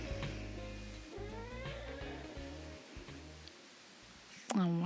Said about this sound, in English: My cat is talking next to me